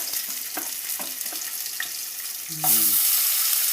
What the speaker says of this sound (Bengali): এবার মাংসগুলো ভাজা হবে তেলে।